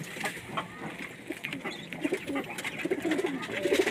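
Pigeons coo in low, repeated throaty phrases at a pigeon sale in Multan, the calls growing busier toward the end over a noisy outdoor background.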